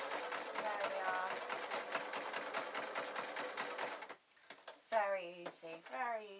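A sewing machine stitches a knitting needle roll, its fast, even needle rhythm running steadily and close for about four seconds, then stopping before a person speaks.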